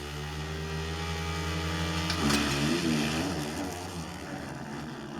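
Motocross motorcycles at low RPM during a Straight Rhythm race, a steady deep engine drone with a rising surge of revving midway, loud and continuous throughout.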